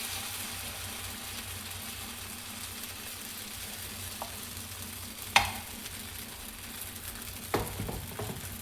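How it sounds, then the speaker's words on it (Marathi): Sprouted moong chila batter fries on a hot oiled tawa, a steady soft sizzle running throughout with a few brief clinks and scrapes near the end. "तवा गरम झालेला आहे, तेल टाकलेलं आहे। आता हा चिला तयार करायचा आहे।"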